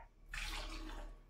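Water splashes into a pan of chole masala in a home kitchen, a short soft gush of pouring that starts abruptly and tapers off within about a second.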